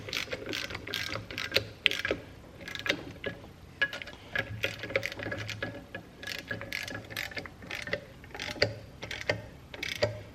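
A socket ratchet snugs up the crankshaft bolts on a Norton Commando engine, giving a steady run of close, crisp clicking pawl ratchets in quick bursts with short pauses between.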